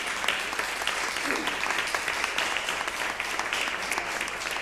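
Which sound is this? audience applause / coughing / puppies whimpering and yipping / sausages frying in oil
audience applause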